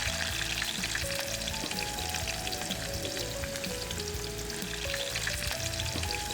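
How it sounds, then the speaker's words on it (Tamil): Onions frying in a pan fill the clip with a steady, dense sizzle, continuous and close, with faint stirring and a low hum underneath and no voices. "இப்போ முதல் கட்டம் நாங்கள் வெங்காயத்தை போட்டு பொரிக்கிறோம்"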